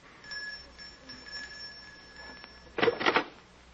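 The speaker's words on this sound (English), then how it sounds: "Just ring the bell." A doorbell sound effect from an old radio drama adaptation of Crime and Punishment rings near the end, a short burst of ringing after faint steady tones and quiet background.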